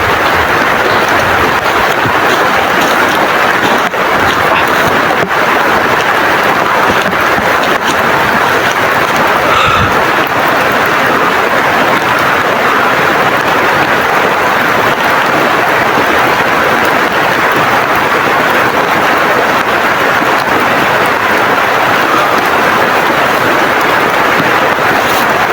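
A downpour of heavy rain hammers down outdoors by a grassy camp, a loud, constant hiss and roar with faint thuds now and then, no voices.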